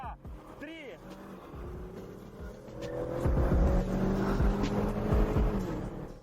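A Chevrolet Camaro drives away, its engine note rising into a louder accelerating rumble that builds over several seconds, with people talking nearby at the start.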